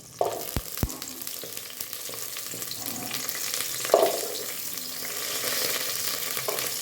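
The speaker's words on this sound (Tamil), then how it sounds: "இதை அப்படியே மிக்ஸ் பண்ணி விட்டு லைட்டாக வதக்கலாம்" Green chillies, dried red chillies, shallots and curry leaves sauté in a pan for rice-cooker dal rice, a steady close sizzle with a few sharp utensil knocks near the start and a brief stirring scrape midway.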